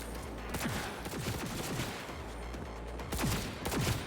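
Repeated gunfire from the player's gun in Cyberpunk 2077, shots coming in uneven bursts over steady game noise with no talking.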